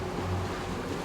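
Sailboat's two 40 hp engines droning at about 1600 RPM in a choppy sea, a faint steady hum mixed with wind and wash of water.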